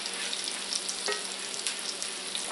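Chicken cutlets for parmesan chicken sizzle and fry steadily in a pan, a dense continuous crackle with a brief sharper spike midway, close and fairly even in level.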